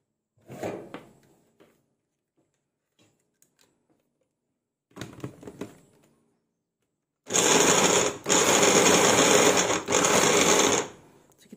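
A kitchen blender grinds cassava in a loud, close whir that runs for about four seconds with two brief dips, after a few quiet clunks and rattles of the jug and lid.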